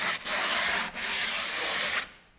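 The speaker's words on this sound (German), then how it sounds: "nimmst du das weiche Schleifpad und das fügt sich halt wunderbar hier an. Ich benutze das sehr gern, um hier auch mal so Kanten abzunehmen" A soft sanding pad is rubbed by hand along wooden edges in long, steady, loud scratchy strokes, with two brief pauses before it stops, and no talking.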